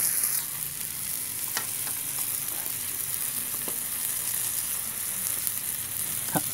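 Noodles with squid sizzle in a hot pan while being stir-fried, a steady close frying hiss with occasional faint clicks of a utensil against the pan.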